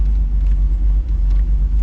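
A car engine idles on old fuel with a deep, steady rumble and slight uneven pulsing, close and fairly loud, with no one talking.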